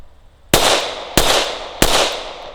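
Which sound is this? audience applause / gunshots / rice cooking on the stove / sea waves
gunshots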